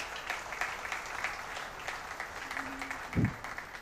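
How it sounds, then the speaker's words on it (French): Scattered, fairly faint applause from an audience at a business award evening in Guadeloupe, honoring a prize recipient, with a brief low thump near the end. "Vous avez de la chance, on peut l'applaudir."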